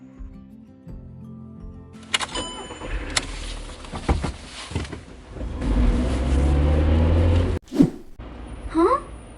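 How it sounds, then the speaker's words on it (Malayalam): A car engine cranks and catches, rising to a steady running drone for a couple of seconds before stopping abruptly, with rustling and brief knocks around it. "അത് ഏട്ടന്റെ വണ്ടി സ്റ്റാർട്ട് ആകുന്ന സൗണ്ട് അല്ലേ?"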